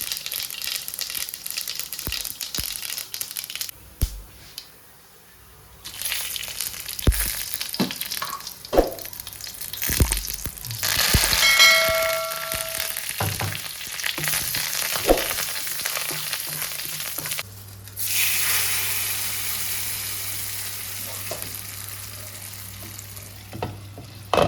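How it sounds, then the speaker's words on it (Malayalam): Mustard seeds splutter in hot coconut oil for a papaya and bean erissery curry in a home kitchen, giving a steady crackling sizzle with scattered pops and occasional stirring clatter, close and alone with no talk. "ഇപ്പോൾ വെളിച്ചെണ്ണ ഒഴിച്ച് കടുക്, എണ്ണ ചൂടായി കടുക് ഇട്ടു"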